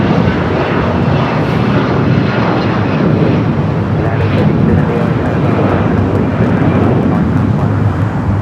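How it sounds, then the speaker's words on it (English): A SpaceX Boeing 737-800 taking off from the south side at LAX, a loud, steady broadband jet roar that fills the whole stretch without letup, with airport wind and rumble beneath it. "Looks like I got that SpaceX 737-800 heading out for a south side at takeoff."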